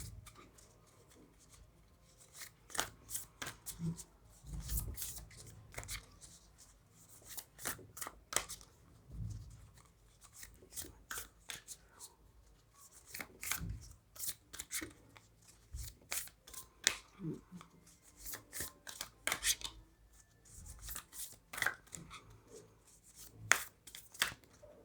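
An angel card deck is shuffled by hand in repeated bursts of crisp riffling and flicking, fairly close and clear, with short pauses between shuffles and no talking.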